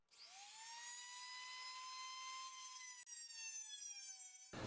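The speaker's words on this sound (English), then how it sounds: "the Dremel" A Dremel rotary tool cuts through a section of an old power supply with a high, steady whine that spins up quickly and holds a bright, sustained pitch. There is a brief dip partway through, and no one speaks.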